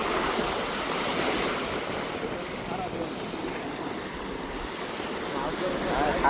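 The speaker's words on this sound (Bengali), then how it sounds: "আপনারা এই সমুদ্রের গর্জনটা শুনলেই বুঝতে পারবেন" Roaring sea waves at Cox's Bazar beach, a continuous broad surf rumble with wind noise on the microphone, swelling slightly toward the end.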